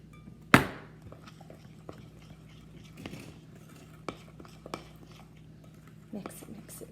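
A spoon works chocolate chip cookie dough with added flour in a bowl: one sharp knock against the bowl, then scattered soft scrapes, taps and clicks of stirring.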